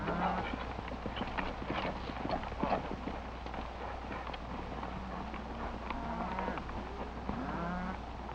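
Horse hooves clip-clopping as riders set off on a western ranch: steady, fairly faint hoofbeats over a low background hum, with no talk.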